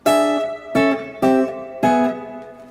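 Four ringing guitar chords in a lick struck one after another, each left to sustain and decay, with wide spread voicings and clear harmonics.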